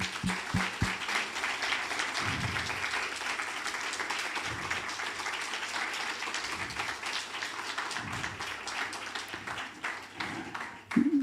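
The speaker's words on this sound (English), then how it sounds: "And so I want us all to just congratulate them and clap them." An audience at a BA Communication Arts and Technology media exhibition claps for graduating students, a dense, steady wash of applause lasting throughout and swelling slightly at the very end.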